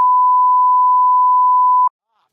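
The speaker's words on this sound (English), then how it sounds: "Beep that out." A steady, loud censor beep tone holds for nearly two seconds and then cuts off abruptly, leaving near silence.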